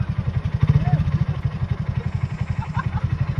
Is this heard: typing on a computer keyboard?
no